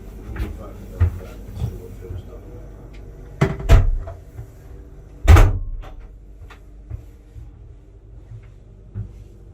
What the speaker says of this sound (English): Oh, this door could bang.